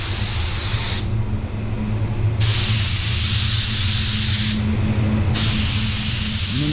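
A paint spray gun lays down base coat in three long steady hissing bursts with short pauses between, close and loud, a compressor hum running under it all.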